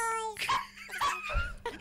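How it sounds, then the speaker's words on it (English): A dog barks and whimpers in an old home recording, loud and close with a few short yelps and whines over about two seconds, while people talk over it. "Wilbur, the decibels on the dog is far too loud."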